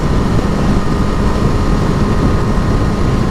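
A 2012 Yamaha FZ8 motorcycle engine drones steadily while being ridden, a loud, constant low rumble mixed with rushing wind noise and no pauses.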